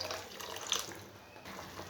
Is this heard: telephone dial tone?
no